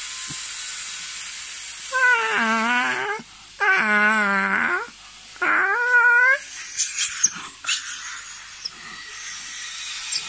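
A small dog gives three drawn-out, high whining yelps in quick succession, close by and fairly clear, over a faint hiss and a few light knocks.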